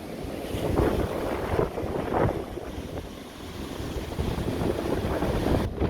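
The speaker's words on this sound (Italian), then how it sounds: "Mare grosso, siamo comunque in una baia riparata, ma il mare è bello sostenuto" Rough, heavy sea surges and breaks in a sheltered Ligurian bay, a continuous broadband wash of waves with gusty wind buffeting the microphone and a boat nearby, loud and steady with no voices.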